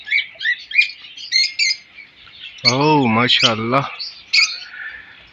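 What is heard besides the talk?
Australian parrots chirping in a cage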